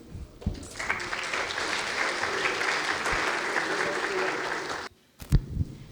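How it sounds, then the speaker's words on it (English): An audience at an academic round-table panel claps steadily for several seconds, then the applause stops abruptly and is followed by a few thumps and a brief murmur. "A round of applause, please."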